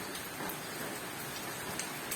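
Steady rain falls on a small workshop in Cagayan province, a continuous dense hiss with scattered sharper drops, fairly faint and with no voices.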